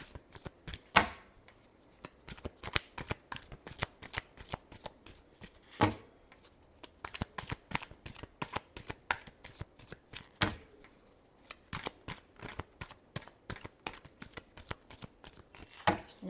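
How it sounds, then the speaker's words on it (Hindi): Tarot cards shuffled by hand throughout, a long series of sharp, close snapping riffles and taps in an irregular rhythm, with a few louder slaps and no talking. "Last shuffle."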